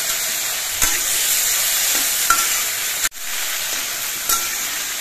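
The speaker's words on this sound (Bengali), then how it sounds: "এবার এই সবজিগুলো ভাজতে ভাজতে সেই জলটা কিন্তু ফুটিয়ে নিতে হবে।" Vegetables frying in a pan for a Khoyra fish recipe, a steady loud sizzle with a few brief scraping stirs and one short pause in the hiss, no voices.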